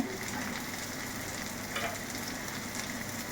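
Garlic and green chili fry in hot oil for dal fry, giving a steady, close crackling sizzle with a few brief stirring scrapes and no talking.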